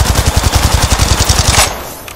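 The Volt SMG in Apex Legends fires a loud, rapid burst of evenly spaced shots for about a second and a half, then cuts off into a brief fading tail.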